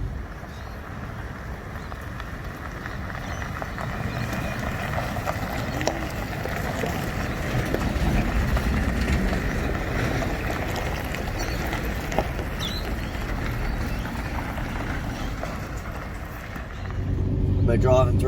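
A vehicle drives through a large mowing site on a cool day in Brisbane where zero-turn stand-on and sit-down mowers are working, giving a steady rumbling engine and wind noise throughout, growing louder near the end.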